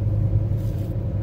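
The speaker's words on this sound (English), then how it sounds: "We're riding in the car" A car interior while driving, a loud steady low rumble of engine and road noise with no voices.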